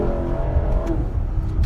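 A non-hybrid Lexus LC500 revs during a test drive, its engine note climbing in a rising tone before settling into a steady, rumbling drone heard from inside the car.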